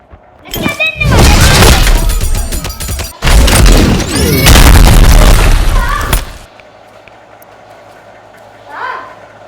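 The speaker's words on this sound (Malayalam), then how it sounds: "പടക്കല്ലേ" Loud booming firecracker blasts and crashing rumble in a Roblox game fill the scene for several seconds, then drop away to quiet background hum with a brief voice.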